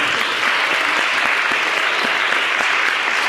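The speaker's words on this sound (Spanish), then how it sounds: "Muy bien, un aplauso." A class of students applauding together, a steady, even roar of many hands clapping close by throughout, with no talking heard over it.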